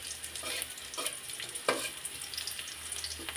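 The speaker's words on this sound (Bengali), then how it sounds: "পেঁয়াজটা আমি হালকা ভাজি করে নেব।" Chopped onion fries lightly in a pan for a Bangladeshi potato bhaji, giving a soft, steady sizzle with a few scraping stirs, faint and close, with no voices.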